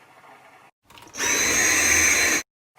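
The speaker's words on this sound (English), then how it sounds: "it was my vacuum cleaner" A vacuum cleaner switches on and runs loud and close with a steady high whine for about a second, then cuts off abruptly.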